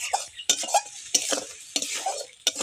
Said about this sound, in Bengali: মশলা বাটার জল দিয়ে একটু নেড়ে চেড়ে নেব। এরকম করে নাড়তে থাকবো।